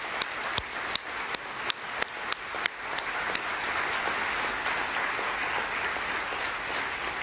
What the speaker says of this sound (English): please join me in one more robust round of applause for all of our phenomenal awardees.